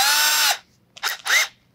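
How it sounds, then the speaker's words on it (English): A power drill fitted with a bit whirs loudly for about half a second, then gives two brief bursts after a pause, used while installing a strap button on an acoustic guitar; no talking. "So I'll put the drill bit in a drill"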